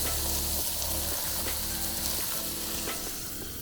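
Water spraying down a roof to rinse off moss debris in Lake Tapps, Washington: a steady, close hiss of hose spray with a constant wash of sound and a few faint taps and splatters, no voices.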